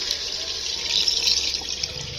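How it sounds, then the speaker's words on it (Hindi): Water poured steadily into a pan of fried chicken feet in a village kitchen, a continuous close splashing stream lasting the whole moment with no talk over it. "अब जो है ना हम इसमें ऐड करेंगे पानी को।"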